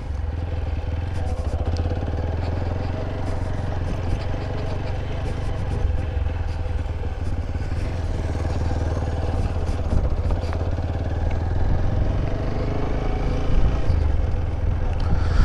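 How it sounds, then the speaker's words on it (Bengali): A motorcycle rides along a road with a continuous low engine drone and rumble, steady and close throughout, with light rattling on top. "চলো আমরা বাইকটাকে রোডে নিয়ে যাই"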